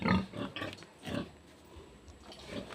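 Pigs, including sows, grunting and oinking close by, several short snorts in quick succession, then quieter grunts trailing off.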